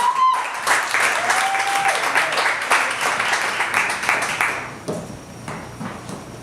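Audience applause and clapping for performer Miss Angela LaRue at a spoken-word event, a dense sustained burst that holds for several seconds before thinning and fading.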